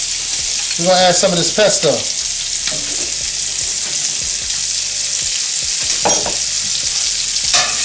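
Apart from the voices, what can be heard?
fat popping and sizzling in a frying pan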